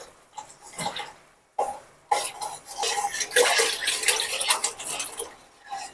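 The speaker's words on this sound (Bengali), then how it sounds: "এখন দিয়ে দিব গরুর দুধ" Cow's milk poured into a cooking pot after boiling water and leftover roast-frying oil, a liquid splashing and trickling with clinks of metal cookware, close and moderately loud, with a short pause before a steadier pour.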